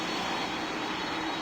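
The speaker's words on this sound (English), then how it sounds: "We got one more plane." A steady, loud airplane engine roar at an airport during plane spotting, a continuous broadband rush with no breaks over a short stretch.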